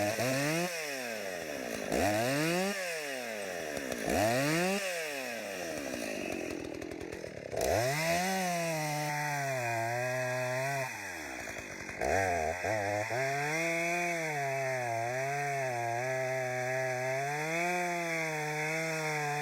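Husqvarna 372XP chainsaw cutting firewood in the woods, the engine loud and close, revving up and down in repeated surges as it bites into the wood, then holding a steady high whine through a long cut.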